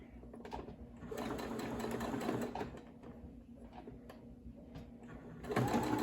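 A sewing machine stitches a fabric ruffle with a continuous, fairly quiet mechanical whir and rapid needle clatter, speeding up slightly near the end.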